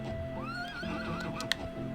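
A video game horse neighs once, a loud rising and falling whinny with a sharp click near the end, over a low game background, no talking.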